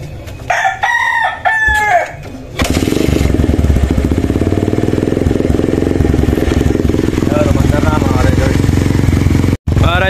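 A Kawasaki Wind 125 motorcycle with a worn valve seal or piston fires up and settles into a loud, steady close idle after a rooster crows nearby at the start, with one brief cut near the end.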